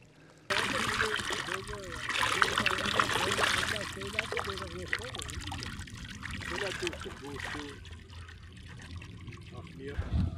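Water trickles and pours steadily into a long concrete trough grown with moss, a continuous close splashing stream with a person talking over it throughout.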